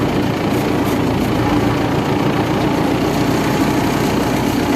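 An MTZ 892.2 tractor idles steadily while reversing slowly, a continuous loud diesel rumble with no pauses and no voices.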